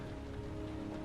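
Steady rain patters in the video game Heavy Rain, a soft, even hiss of falling drops heard briefly and quietly at night.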